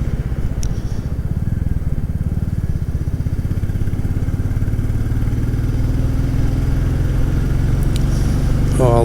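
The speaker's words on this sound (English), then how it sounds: "Oh, I love the sound of that engine." A vehicle engine runs steadily while driving, a loud, continuous low rumble with a throbbing mid-range hum and faint clatter that holds throughout without talk.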